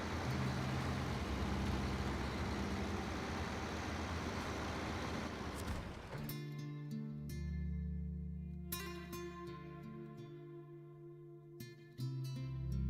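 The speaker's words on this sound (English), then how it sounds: "I forgot how good this truck sounds." Truck engine in the video game Snowrunner, a dense road and engine roar at first, then a lower steady motor drone with occasional clunks and hisses, fairly faint.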